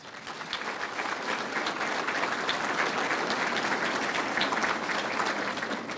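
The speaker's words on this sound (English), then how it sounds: "could you please give him a round of applause for his gift" Steady applause from an audience at a NEAR Hall of Fame ceremony, honoring author Dave Argabright; dense, even clapping fills all six seconds at a constant level with no voices standing out.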